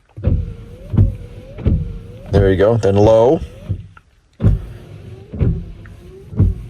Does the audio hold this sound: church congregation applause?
no